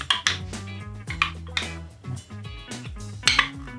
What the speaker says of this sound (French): On va tout simplement mélanger notre ganache équatoriale noire